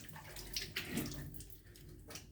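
Face being rinsed with running water from a tap after washing, soft splashing and trickling close by, quiet and brief, no talking.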